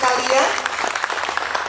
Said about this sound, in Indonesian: Boleh tepuk tangan Bapak Ibu sekalian.